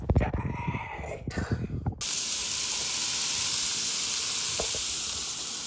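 Steak sears in a hot pan with a loud, continuous sizzle and hiss, after a couple of seconds of clatter and handling as the meat goes in.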